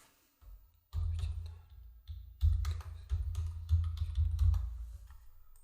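Someone types a phone number on a computer keyboard: a run of close, fairly loud key taps in quick uneven bursts after a short quiet start.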